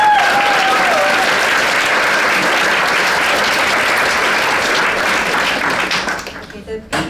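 Loud, dense applause from a large audience at an awards ceremony, sustained steadily for several seconds before thinning out at the end.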